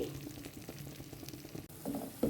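Mushroom gravy pieces fry in oil with a low, steady sizzle. Faint stirring noises sit under the hiss, and a few louder bumps come near the end, all fairly quiet and close.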